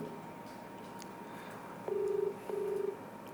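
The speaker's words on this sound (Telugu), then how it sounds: "కాల్ రింగ్ అవుతుంది" A telephone call being placed, heard as a faint electronic tone pulsing twice in quick succession over low background hiss.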